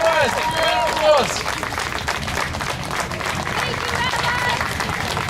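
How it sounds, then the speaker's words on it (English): A crowd at an outdoor Palestine rally in Clifton, New Jersey, claps and cheers steadily for several seconds, with a voice calling out briefly at the start over the sustained applause. "Take your round of applause."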